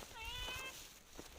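Cat outdoors in a residential neighbourhood giving a single drawn-out meow, close and clear, with faint outdoor background noise and a couple of soft thumps afterward.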